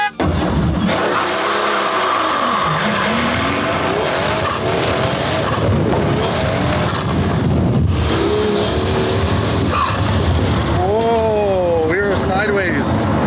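A Pagani Huayra revs hard as its big rear tires spin and squeal, the engine note rising and falling through the gears, loud and close, with people talking over it.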